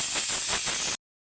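Pressure cooker venting steam after whistling while cooking lentils: a steady, bright hiss close to the microphone, lasting about a second before cutting off abruptly into silence.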